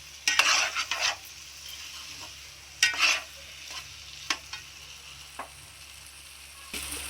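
Fried eggs being stirred into a sizzling egg and tuber curry in a pan, with a few bursts of spoon scraping and clatter over a steady frying hiss, close and fairly loud, no talking.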